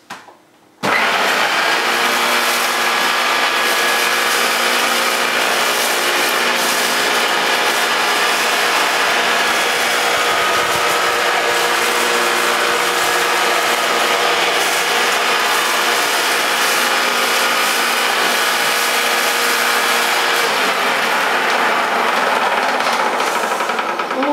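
A Hoover U2462 Turbopower 2 vacuum cleaner switches on with a sudden loud start, then holds a steady, whining motor roar with a droning hum for over twenty seconds, close and uninterrupted.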